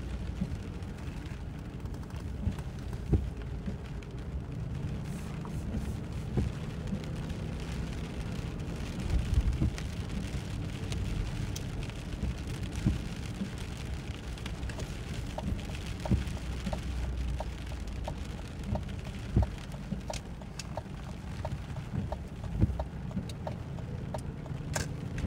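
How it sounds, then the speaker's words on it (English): Steady, heavy rain pours down with low rumbles of thunder rolling underneath, continuous and fairly loud throughout, with no voices. "Let's let the storm die through. Blow through first."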